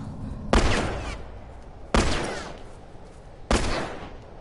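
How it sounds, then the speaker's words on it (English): Three heavy gunshots from enemies in The Last of Us, each a sharp crack followed by a long echoing tail, spaced about a second and a half apart, loud and alone. "They're shooting me."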